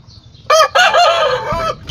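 A rooster crows once, close and loud, on a small chicken farm, a bright drawn-out call lasting about a second over faint background noise.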